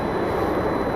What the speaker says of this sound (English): Southwest rolling out